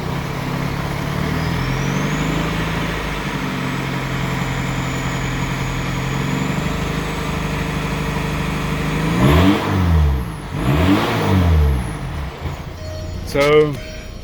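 A turbo diesel engine in a Mazda Miata revs up in a few sharp bursts, climbing and falling in pitch, after a stretch of steady idling rumble.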